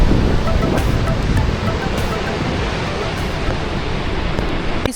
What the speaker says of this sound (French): on est juste au-dessus de la cascade